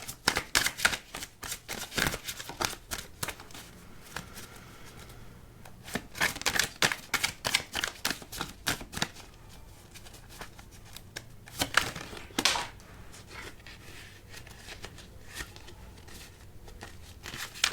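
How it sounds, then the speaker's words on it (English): Crisp riffling bursts of tarot cards being shuffled, repeated in quick rustling runs with short pauses between them, close and fairly quiet. "I want to get through the shuffle though to make sure that there's nothing left."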